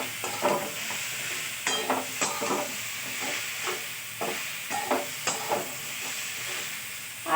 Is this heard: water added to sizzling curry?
yes